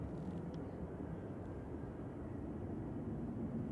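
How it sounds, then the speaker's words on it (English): A British Airways shuttle jet departs Manchester Airport for Heathrow, a steady broadband engine roar that holds at even strength throughout, with no voices over it. "There goes the BA shuttle."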